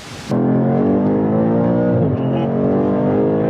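A brand-new all-wheel-drive BMW accelerates hard from close by. The loud engine note climbs steadily, dips briefly at a shift, then keeps pulling, with no talk over it.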